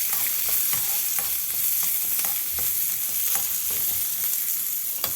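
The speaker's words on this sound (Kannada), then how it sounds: "ಈಗ ಇದ್ರ ಜೊತೆಗೆ ಸಣ್ಣದಾಗಿ ಹೆಚ್ಚಿಟ್ಕೊಂಡಿರೋ ಒಂದು ಈರುಳ್ಳಿ, ಇದನ್ನು ಸೇರಿಸ್ಕೊಂಡು ಚೆನ್ನಾಗಿ ಬಾಡಿಸ್ಕೊಳ್ಳೋಣ." Chopped onion sautéing in a pan for a millet and field bean pulao, with a steady close sizzle broken by repeated scrapes and stirring taps, no voices.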